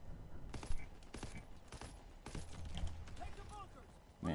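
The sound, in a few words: gunfire in a video game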